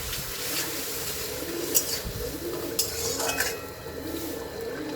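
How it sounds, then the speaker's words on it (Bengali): Spice masala with a little water being stirred in a pan with a metal utensil, soft scraping and occasional clinks against the pan over a quiet sizzle, close and without talking. "ভালো করে নেড়ে দেবো আমি"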